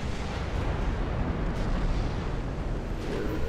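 A torpedo strikes a warship in the naval battle game Ultimate Admiral Dreadnoughts, producing a dense, continuous low roaring explosion with rumbling crackle that stays loud and heavy throughout.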